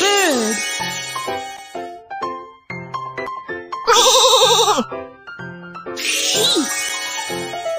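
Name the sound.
sheep bleating, cartoon hearing test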